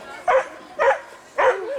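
A dog on an agility training course gives three sharp barks spaced evenly apart, loud and close, with a brief whine at the end.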